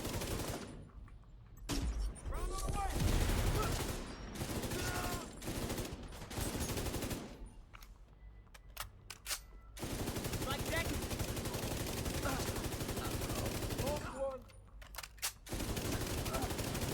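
Light machine gun fire in The Division 2, long loud automatic bursts broken by short pauses, with someone talking over parts of the shooting.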